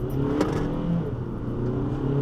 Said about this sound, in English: It still sounds like a diesel, but it is quick.